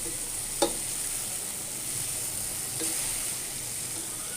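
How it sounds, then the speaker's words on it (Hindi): Rice being stirred in a pan over low heat while making sweet zarda, a steady soft sizzle running throughout with two faint scrapes of the spoon, quiet and close with no talking. "अब मैं चावलों को हल्की आंच से उलट पुलट कर लूँगी।"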